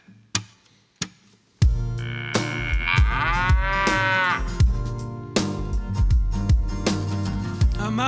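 Cattle on a farm moo loudly and nearby, one long drawn-out low call with a few sharp knocks before it, then repeated thumping beats that sound like music continuing underneath.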